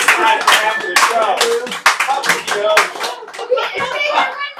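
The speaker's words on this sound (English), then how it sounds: "everybody's gonna round of applause for the guy who literally was sitting outside after the show" A small comedy-show audience claps loosely and unevenly for a helpful guy from after the show, the clapping mixed with chatter and voices talking over it.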